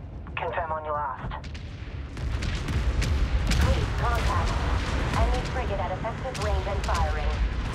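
Starship weapons fire and heavy booms from a Homeworld 3 space battle involving a destroyer, dense and continuous explosive rumble with sharp impacts throughout, a voice speaking over the din at the start.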